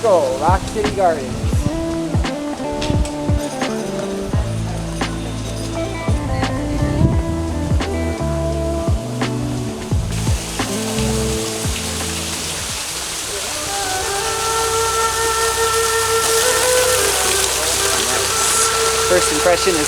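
A waterfall at Rock City Gardens rushes as a steady, broad hiss of falling water that swells and holds through the second half, following a stretch crowded with other noise.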